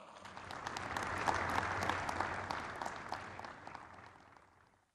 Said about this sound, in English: a rousing applause for our ambassador of the Interclub competition